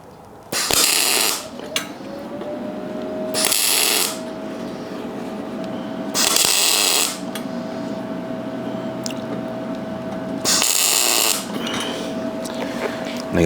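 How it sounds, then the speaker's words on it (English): Stick welding small spots on a utility trailer's weed wacker rack: four loud crackling bursts of arc, each about a second long, separated by a steady low hum and faint background noise. "I gotta make sure I don't weld the rod to that while I'm welding those little spots"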